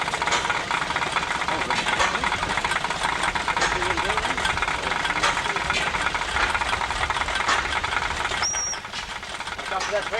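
An antique tractor or steam engine runs at an outdoor show, its steady chugging and knocking rolling on continuously with hissing and crowd noise around it, and a brief whistle-like tone near the end.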